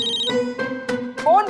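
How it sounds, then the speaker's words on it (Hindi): A mobile phone ringtone chirps in repeated melodic bursts in a room, loud and close, with people talking over it. "फोन बज रहा है, किसका है?"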